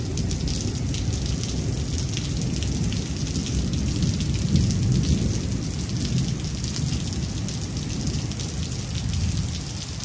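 Steady heavy rain pouring onto surfaces with a low rolling rumble of thunder beneath it, loud and continuous throughout with no voices.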